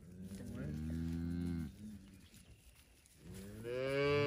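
Cattle on a farm moo loudly and close by, one long low call followed after a short pause by another rising moo, with no talking.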